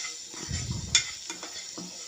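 Spice powders (chilli, salt, turmeric, garam masala, coriander) being stirred into mashed potato filling for aloo samosa, a soft scraping and mixing with one brief clink, close and fairly quiet with no talk.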